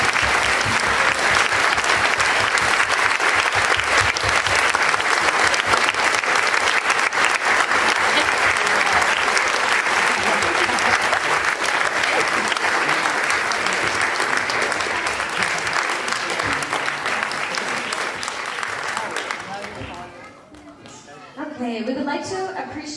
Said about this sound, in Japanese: 会場の皆さん、もう一度、今回の Good Job Creators Camp に参加した若者と皆さんと指導者全員に盛大な拍手をお願いいたします